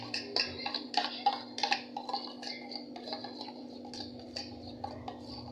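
Spoon and utensil clinks against a bowl as African salad is mixed with ukpaka, a run of light tapping and scraping with a steady low hum underneath.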